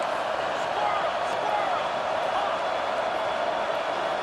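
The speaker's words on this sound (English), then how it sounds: "The crowd is loud, man." Steady, dense roar of a stadium crowd in a college football video game, Georgia Bulldogs versus Georgia Tech, holding at a constant loud level throughout without distinct peaks, with commentary likely mixed underneath.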